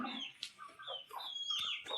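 Country chickens clucking close by in a series of short, uneven calls, with a sharper squawk now and then and no talking.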